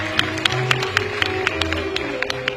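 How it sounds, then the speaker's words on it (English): A graduation ceremony crowd applauds at Kampala University, with sharp scattered claps ringing out over a sustained low hum and some crowd murmur. "Clap for him."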